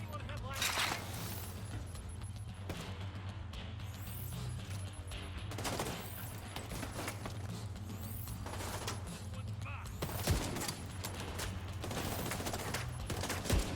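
Rapid bursts of gunfire from the video game The Division 2 crackle steadily through a busy firefight, mixed with game effects, while players talk over it.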